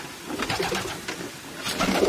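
Pigeons cooing at a pigeon farm, soft overlapping coos from several birds close by, repeating in a steady, murmuring stream with no talking.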